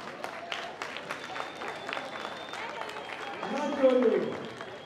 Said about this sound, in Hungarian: Tapsoljuk meg a Szövőt.